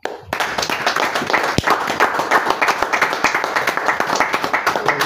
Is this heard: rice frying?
no